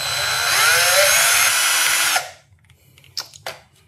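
A power drill bit grinds into a racquet with a loud, high continuous whine for about two seconds, then stops abruptly, followed by a few faint knocks and clicks.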